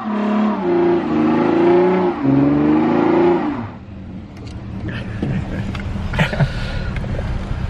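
A car revs hard for burnouts at a junkyard, a loud rising and falling engine drone for several seconds, then cut off by rougher, scrappier noise and clatter.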